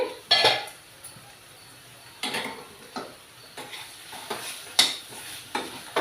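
Raw plantain curry being stirred in a pan, with a series of separate spoon scrapes and clinks against the metal at an irregular pace over a faint sizzle.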